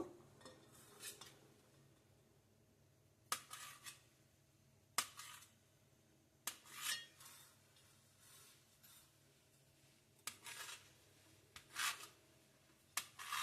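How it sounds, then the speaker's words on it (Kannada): A knife cuts idlis into pieces on a plate, producing sparse, sharp metallic taps and scrapes separated by quiet gaps, faint and close. "ಎಲ್ಲ ಇಡ್ಲಿನೂ ಆ ಥರನೇ ಕಟ್ ಮಾಡ್ಕೊತಾ ಇದ್ದೀನಿ"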